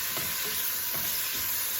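Olives are stirred into a pan of cooking Brussels sprouts and tomatoes, a loud continuous sizzle with scraping stirs repeating roughly every half second.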